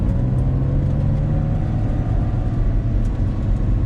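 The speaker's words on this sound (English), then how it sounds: "That's the exhaust modification." A 2000 Porsche 996 Carrera 2 Cabriolet with a modified exhaust idles with a deep, steady exhaust rumble, top down, loud and close, with a faint rise in pitch near the start.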